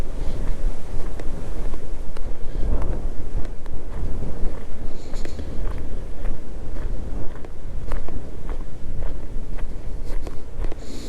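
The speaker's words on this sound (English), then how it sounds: "it is a windy, windy day today" Strong wind buffets the microphone of a replacement GoPro-style camera on a Can-Am Spyder in a constant low roar, with occasional faint clicks and rustles mixed in.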